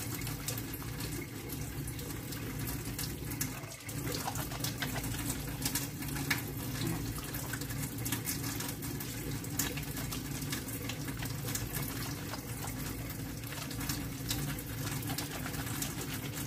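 Hands work up a lather with a bar of homemade olive oil soap scented with lavender under a steadily running tap, the water hiss continuous and close, with no talking.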